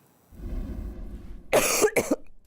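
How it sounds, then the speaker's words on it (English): A persistent cough, a low throaty rasp followed by two sharp, close cough bursts at the end. "a cough that just won't quit"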